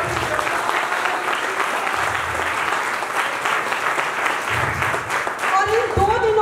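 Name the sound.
audience applause for the speaker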